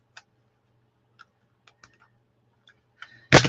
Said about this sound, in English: So let me just see if my corner rounder will work.